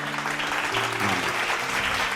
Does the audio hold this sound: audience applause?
yes